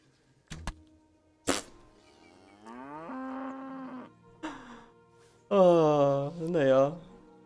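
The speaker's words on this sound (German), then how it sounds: "Gut, schleichen wir uns an die Kühe ran." Cattle mooing in the medieval video game Kingdom Come: Deliverance, several long, loud lowing calls from cows close by, with a couple of short thuds in between and no talk over them.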